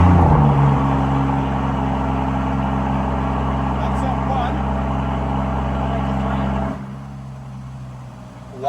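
Mansory-modified twin-turbo Lamborghini Aventador hypercar engine running with a loud, steady deep rumble for most of the clip, then abruptly dropping to a quieter idle near the end, with voices talking over it.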